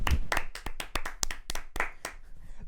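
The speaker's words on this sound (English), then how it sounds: "Another applause." A few podcast hosts clap their hands in praise of a football player: a brief burst of close, irregular claps from several people, with no talking.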